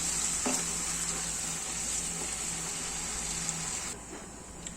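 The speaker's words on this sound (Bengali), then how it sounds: "এবার ভালো করে কষিয়ে নেবো" Chicken curry masala sautés in oil with a dense, even close-up sizzle and a faint steady hum, easing slightly near the end, with no talking.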